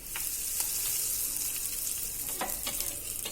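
Fenugreek seeds and asafoetida sizzle in hot oil for a tempering, with the flame switched off, for a mirchi chutney; a steady broadband crackle runs throughout, with a few sharper pops and stirring scrapes near the end, and no talk.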